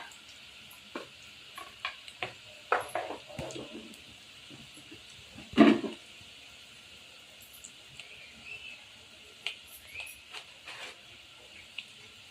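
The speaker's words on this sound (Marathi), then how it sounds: "आता मी हलवून घेते" Turmeric, Kashmiri chilli powder, hot chilli powder and onion masala being stirred in a pan, with sporadic soft scrapes and taps and a faint sizzle beneath, quiet and close.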